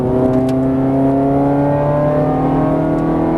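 A Ferrari 430 Scuderia engine pulls hard on a race track, a loud, steady high-pitched roar with its pitch climbing as it accelerates, heard from inside the car.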